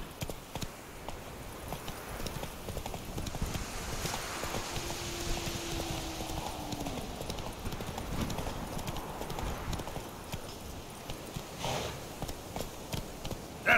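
In The Witcher 3 the horse Roach trots along with steady rhythmic hoof clip-clops throughout, close and moderately loud, with a brief neigh partway through.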